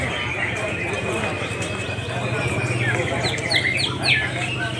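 Rapid high chirps and whistled notes from a gembredek songbird sound over a steady, busy background of murmuring voices and noise, growing more prominent toward the end.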